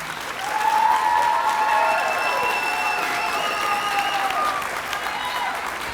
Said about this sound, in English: give the graduates a round of applause